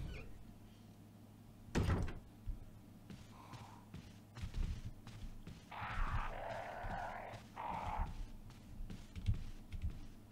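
A door thumps and slides open for someone walking through, followed by scattered knocks, footsteps and muffled handling noises at moderate distance, with no speech.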